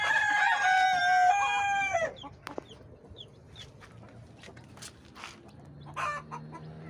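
Brahma chickens on a small ornamental poultry farm, with a rooster crowing loudly at the start and hens clucking in scattered bursts close by afterward.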